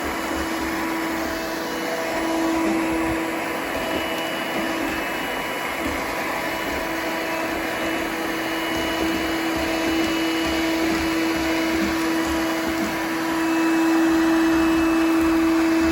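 Coral One robot vacuum cleaner running with strong suction, a loud, steady motor whine and airflow roar that holds constant and swells slightly toward the end, with no talking.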